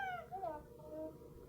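A short, high cat-like meow with a rising and falling pitch sounds close by, with faint low murmuring in the background.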